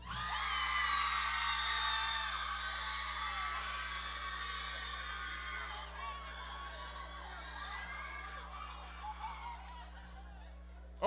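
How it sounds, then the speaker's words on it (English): A crowd of children at a school Black History program cheers in a loudest-cheer contest, a loud sustained mass of high voices that gradually fades and breaks into scattered shouts. "we're going to see whoever has the loudest cheer will be the winner"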